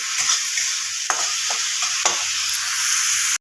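Oil sizzles steadily in a pan while a utensil scrapes and stirs a few times, close and fairly loud, with no voices.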